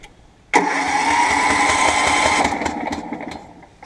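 Lawn tractor engine cranking but failing to start, a sudden loud starter grind that holds for about two seconds and then fades out, heard close up.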